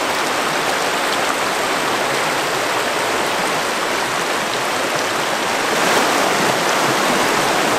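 Rushing water of river rapids at Whiskey Rapids, a steady loud broadband roar filling the whole stretch without a break, growing slightly stronger toward the end, with no voices.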